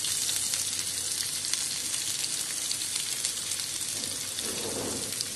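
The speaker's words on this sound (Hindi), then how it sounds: "हल्का सा हम इसे भून लेंगे और हम अब इसमें प्याज को शामिल कर देंगे" Onions frying in hot oil with whole garam masala pieces, a steady, loud sizzle close by that holds throughout, with a brief soft stir near the end.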